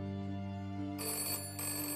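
A telephone rings with a steady, sustained electronic tone that brightens partway through, heard close and alone without any talk.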